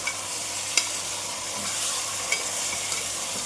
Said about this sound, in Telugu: శుభ్రంగా క్లీన్ చేసి పెట్టుకున్న మాంసం అయితే ఇందులో వేసేసుకుందాం ఒక్కొక్కటిగా బాగా మిక్స్ చేసుకుందామండి